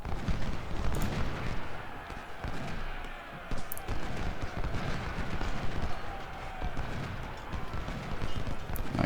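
Cannon fire in the Civil War strategy game Ultimate General Civil War at the Battle of Chickamauga, booming steadily amid a dense, continuous roar of battle noise and marching troops, loud throughout.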